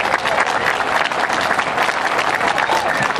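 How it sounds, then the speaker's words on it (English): Loud, dense applause from a crowd at a college commencement, clapping for the staff in a sustained, even roar from start to finish. "So just a round of applause for all of them."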